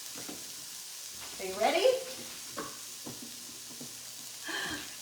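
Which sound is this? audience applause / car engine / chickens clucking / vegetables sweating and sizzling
vegetables sweating and sizzling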